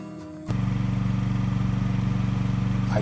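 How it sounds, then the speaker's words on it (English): A portable generator starts up at a high-country campsite to heat a camper, settling into a steady, loud, close engine drone with an even pulsing rhythm that continues to the end. "I turned my generator on to warm up the interior of my camper."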